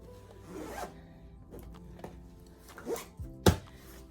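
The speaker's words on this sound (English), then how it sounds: "We don't want to break any zippers." A suitcase zipper drawn closed over carry-on luggage packed for a trip, with several short rasping pulls and a sharper tug near the end, close and quiet with no talk.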